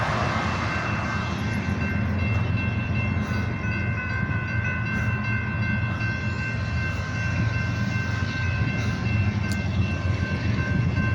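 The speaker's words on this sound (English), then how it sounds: "Here comes another train." A freight train hauled by three locomotives with distributed power units passes close by, a steady, loud, continuous rumble and wheel roar with a sustained horn-like tone running throughout and no talking.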